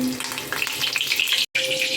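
Curry leaves dropped into hot oil in a wok for a Malvani surmai fish curry, a loud crackling sizzle that spits and pops throughout, briefly cut by a short gap.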